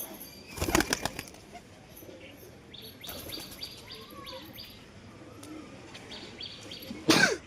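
A sudden burst of wing flapping near the start, then quieter ambient sounds with faint chirps, and another sharp flurry of flapping at the end.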